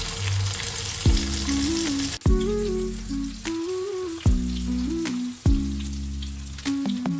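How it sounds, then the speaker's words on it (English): Marinated mutton pieces fry in hot oil with a steady, close sizzle, broken by several sharp spits and crackles as pieces are turned or moved; no voices. "Add the marinated mutton pieces to the oil and fry on both sides."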